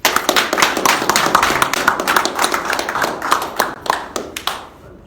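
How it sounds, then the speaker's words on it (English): A small audience claps after a street hypnosis demonstration, a lively burst of close, uneven hand claps that keeps going for several seconds, then thins out and fades near the end. "Round of applause, please."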